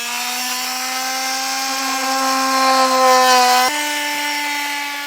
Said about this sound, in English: We're just going to use a multi-tool in order to cut this out.